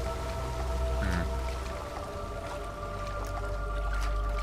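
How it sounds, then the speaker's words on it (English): Rain falls in a video game as a steady, even hiss that continues unbroken, with a faint low hum beneath it. "No, that's just rain."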